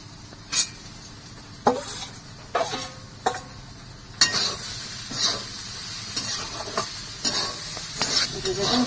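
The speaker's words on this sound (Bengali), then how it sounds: "দেখুন ভাজা হয়ে গেছে" Chickpeas and fried potatoes sizzle in a pan for ghugni, with repeated sharp scrapes and clinks of a spoon stirring every second or so over a constant hiss, close and alone.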